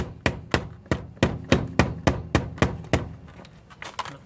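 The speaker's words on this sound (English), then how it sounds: "I just hate hammering my car wheel so sensitively" A hammer taps an Alloygator rim protector onto a Tesla Model 3 wheel: about a dozen sharp, evenly spaced knocks, loud and close, loosening into lighter, irregular taps at the end.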